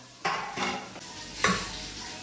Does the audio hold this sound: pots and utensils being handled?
yes